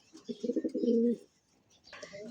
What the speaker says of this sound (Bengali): সিলভার ওভার লাইট কালার মধ্যে এক জোড়া লাহোরি কবুতর